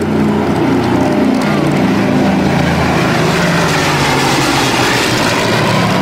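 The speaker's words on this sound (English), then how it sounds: "two P-51 Mustangs escorting the B-29 Superfort" The B-29 Superfortress FIFI flies by with two P-51D Mustang escorts at a 2003 Randolph AFB air show. Their piston engines make a loud, continuous, heavy droning roar that fills the whole stretch.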